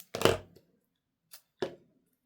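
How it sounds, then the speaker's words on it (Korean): Scissors snip paper for an origami model, with a couple of short crisp cuts, close and quiet, separated by pauses. "가위질"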